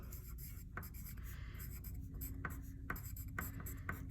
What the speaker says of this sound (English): Take a moment and write your name.